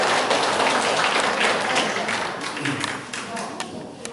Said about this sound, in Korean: 큰 박수 한 번 더 부탁드립니다